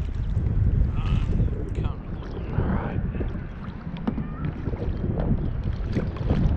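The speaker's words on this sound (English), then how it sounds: "going to paddle this way." Kayak paddling on open water: repeated watery splashes and strokes close by, mixed with wind buffeting the microphone and some background voices.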